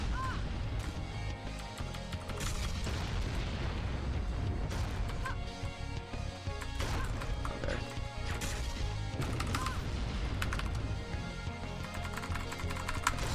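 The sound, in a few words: Devastator weapon shots and explosions in Iji video game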